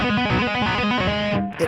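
Distorted electric guitar playing a quick run of notes, likely hammer-ons and pull-offs, thick and sustained, ending abruptly with a short fade.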